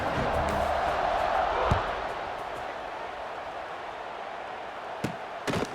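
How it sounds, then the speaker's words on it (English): Crowd noise hums at a moderate level in a College Football 26 game at Kidd Brewer Stadium before a kickoff, with a couple of sharp thumps and brief clatters standing out against the steady murmur. "They're set to kick it off, and this crowd now ready to get behind them."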